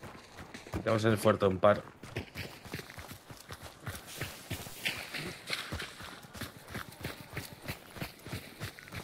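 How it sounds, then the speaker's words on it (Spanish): In the video game Hunt: Showdown, horse hooves clip-clop in a steady, rapid rhythm under someone speaking Spanish, with a louder burst of sound near the start. "Suena a caballo, ¿eh?"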